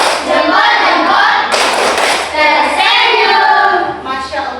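A class of sixth-grade pupils doing a rhythmic thumb-clap chant in a classroom, loud steady clapping mixed with children's voices chanting.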